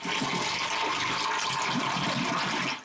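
Water draining steadily from an old washing machine tub through a lowered drain pipe, a continuous close rushing gush that stops abruptly near the end.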